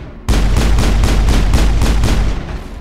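Rapid pistol gunfire from the video game Mass Effect, loud and continuous, with about ten evenly spaced shots in a steady rhythm.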